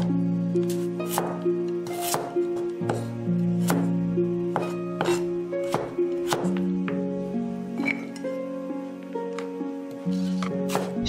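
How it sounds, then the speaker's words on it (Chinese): A knife cutting a carrot into sections and then strips on a board, heard as a steady series of crisp, close chopping taps with a few clinks, over soft background music. "胡萝卜先切成段，再切成条。"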